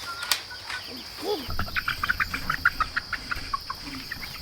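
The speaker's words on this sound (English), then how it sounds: "How's the little chicks doing?" Small chicks cheep in a rapid run of high peeps, close and fairly soft, over a steady insect-like hum in the background.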